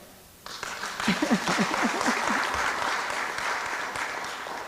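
A crowd applauds at a formal meeting where the president receives the US House Speaker, steady clapping rising after a quiet start and sustaining loudly to the end.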